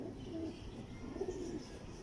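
Teddy pigeon of the Mian Nazeer bloodline cooing softly, a couple of low, throaty coos close by against faint background noise.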